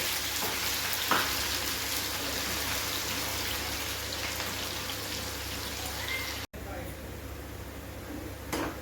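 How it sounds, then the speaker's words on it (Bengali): Sliced onions fry in hot mustard oil in a kadai for chicken korma, giving a continuous close, crackling sizzle with a few brief pops and a short break near the end. "এখন আমি অল্প অল্প পেঁয়াজগুলো বেরেস্তা বানিয়ে দিব, লাল লাল করে ভেজে নিব।"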